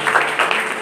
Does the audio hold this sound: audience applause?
yes